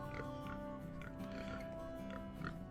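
Two pigs on a small homestead farm grunt and oink at close range, a few short snorts scattered over a steady low background noise, with a voice faintly in the mix.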